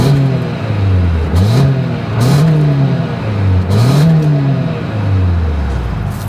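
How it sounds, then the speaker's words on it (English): A 2024 Toyota Highlander SUV engine revs repeatedly through the exhaust, rising and falling in about three throaty surges over a steady idle, close and loud. "As always, here is that exhaust clip."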